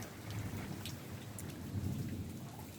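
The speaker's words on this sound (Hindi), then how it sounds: "ये देखिए इतना ज़ोरदार बारिश हो रहा है, इसी में हवा भी चल रही है।" Heavy rain pours steadily outdoors with gusting wind, a dense continuous roar that swells slightly toward the end, with rumbles of thunder mixed in and no voices.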